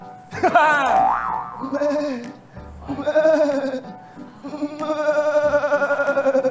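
A person imitates a frightened goat, giving several loud, wavering, nasal bleats in separate bursts, the last one long and trembling, close to the microphone.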